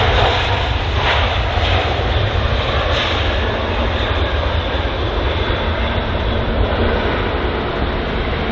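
A jet aircraft engine at London Heathrow gives a loud, steady roar that holds throughout with little change.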